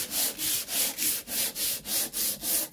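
The sole of a cheap hand plane rubs back and forth across sandpaper in steady, even strokes, about nine rhythmic gritty swishes close up with no talk.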